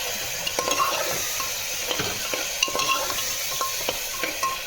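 Food frying in a pan at home, with a continuous sizzle and frequent metallic scrapes and clinks of a spoon stirring against the pan, close and clear with no talking.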